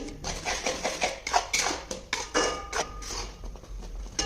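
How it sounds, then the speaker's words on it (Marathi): Coconut barfi mixture with a spoonful of ghee stirred evenly in a pan over a low flame, giving steady close scraping and clinking of a spoon against metal, with soft bubbling underneath and no voices. "तर लो फ्लेमवर या ठिकाणी याला एकसारखा हलवून घ्यायचं आहे"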